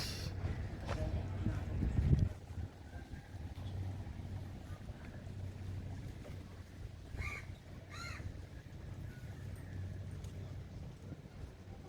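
A Kerala backwater houseboat on Vembanad Lake moves along with a low, continuous engine hum, while crows caw a few times nearby over the drone.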